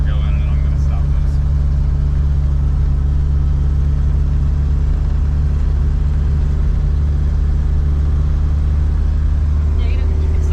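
A 1986 Nissan 200SX with a 5-speed manual runs steadily up close, its loud, continuous low engine hum and rumble unbroken for the full stretch.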